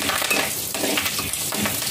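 Cut chillies fry in a pan with a close, steady sizzle and soft stirring scrapes over a short stretch.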